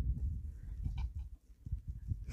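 Goats in the Grayson Highlands give low, close bleats and rumbling calls, a few short uneven cries over a dull background, with no one speaking.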